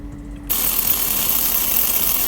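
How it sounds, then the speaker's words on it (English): An electric ratchet spinning on an alternator bolt of a Fiat Punto Evo, a sudden loud, close buzzing whir that starts after a quiet moment and runs steadily to the end. "Okay, so I'd use the electric ratchet."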